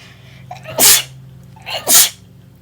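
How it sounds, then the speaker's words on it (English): Two sharp sneezes close to the microphone, each preceded by a short breathy intake, about a second apart. "Don't inhale or it'll make you sneeze"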